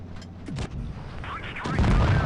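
Tank cannon fire in World of Tanks Blitz during a close battle against a platoon of T-34-85s: sharp booming gun blasts, one early and a heavier, louder one near the end, over rumbling engine noise and a voice talking.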